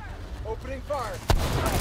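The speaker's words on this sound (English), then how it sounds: "Opening fire!" Heavy gunfire from The Division 2 shooter game bursts in with a sharp loud crack after a short spoken line, then keeps rumbling in a dense, close barrage.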